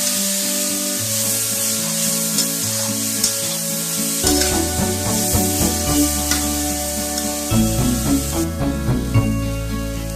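Vegetables stir-fry in a kadhai over a high gas flame, with a steady sizzle and occasional stirring scrapes running beneath louder tonal background music.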